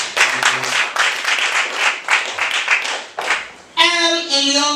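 Scattered audience clapping at a school quiz contest comes in uneven bursts of hand claps, fairly close, before a brief tonal chime or beep sounds near the end.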